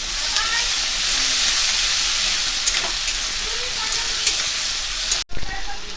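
Onion and tomato fry in a pan with lightly salted oil, a loud steady sizzle and hiss running throughout, broken by a few soft stirring clicks and a brief pause near the end.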